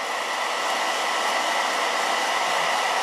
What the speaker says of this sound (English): just use a blow dryer on it.